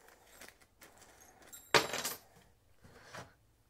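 Metal spanner and nuts clinking and jangling while a helmet wall mount is fitted with a small hook in a garage, with one sharp, bright metallic rattle in the middle and softer handling clicks around it.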